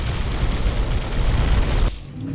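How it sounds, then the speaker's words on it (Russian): Heavy, continuous booming fire from a howitzer in the Aquanox underwater video game, a loud dense barrage that cuts off sharply near the end, leaving a quieter tail. "Зато гаубица далеко стреляет."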